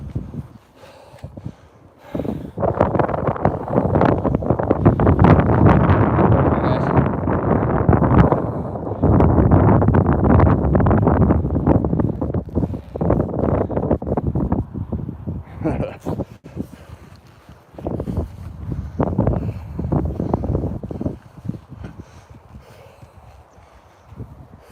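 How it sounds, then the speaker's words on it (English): Gusty wind buffets the microphone on a hilltop during a walk, with strong rumbling blasts that rise and fall in waves, while a person talks between the gusts and footsteps are faintly heard. "Bit gusty up here"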